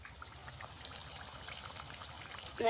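Spinach vadas fry in a pan of hot oil, a soft continuous crackle and sizzle of small popping bubbles, fairly quiet and steady, with a louder clatter right at the end.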